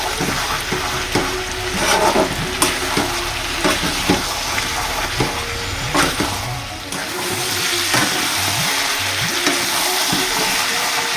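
Meat with whole onions and whole garlic cloves sautéing in oil in a pot, a steady close sizzle broken by periodic scraping and stirring strokes of a spatula, then settling into a softer continuous fry.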